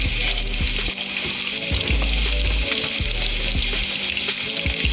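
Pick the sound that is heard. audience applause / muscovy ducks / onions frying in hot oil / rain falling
onions frying in hot oil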